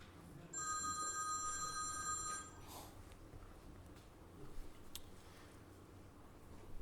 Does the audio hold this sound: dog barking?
no